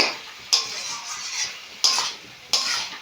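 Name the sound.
banana flower and potato being stir-fried in a pan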